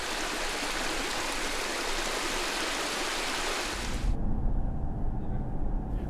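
A steady, broad rush of flowing water from a river running through a narrow, steep-walled gorge in the Atacama Desert, continuous and fairly loud, its tone shifting to a deeper roar partway through.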